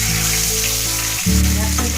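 Parshe fish frying in hot oil for a curry: a steady, close sizzling hiss that swells louder after a brief stir or turn, with faint tonal background music.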